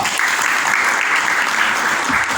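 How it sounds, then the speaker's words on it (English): Award ceremony audience at a conclave in India breaks into applause for an award recipient, a dense, even roar of many hands clapping at steady loudness throughout. "Please help me in welcoming with a round of applause Dr. Swayam Sodha."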